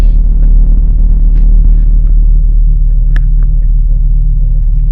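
A 2000–2004 Volvo V70 XC70 engine idles after a cold start in minus 20 degrees Celsius, giving a loud, steady low rumble with faint ticks above it.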